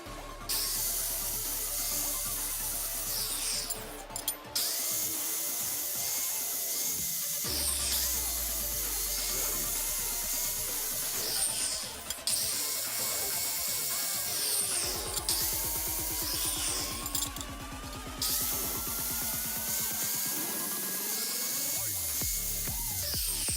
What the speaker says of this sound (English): we're going to go ahead and sharpen up the blade here